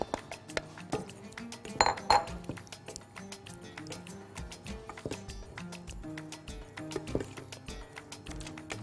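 Corn kernels going into a pot with butter, a run of light clinks and rattles from a metal pot and utensil, with a louder cluster of clatter early on and scattered taps afterward. No talk is heard.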